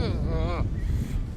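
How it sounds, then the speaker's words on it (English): Strong, cold wind buffets the microphone outdoors in a continuous low roar, while a person talks over it briefly at the start. "Wind is brutal."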